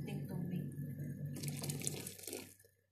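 Water poured into a cooking pot of rice for vegetable soup, a soft steady splashing and trickle that fades out at the end, with faint talk underneath.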